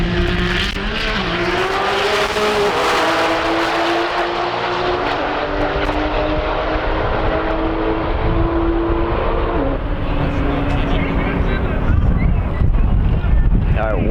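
A twin-turbo Dodge Viper and a Nissan GTR roar past 200 mph side by side in a roll race at TX2K21, a loud sustained engine drone heard over heavy wind noise.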